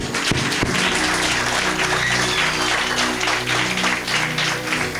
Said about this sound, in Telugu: మరి నడిపించిన వారి కోసం ఒక మంచి క్లాప్స్ కొట్టండి